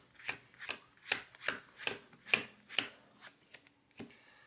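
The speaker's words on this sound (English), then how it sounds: "We're going to look at every 10th card as usual." Playing cards are dealt off a deck one by one in a quiet room, nine soft, close flicking snaps at a roughly even pace with small gaps between them, and no talking.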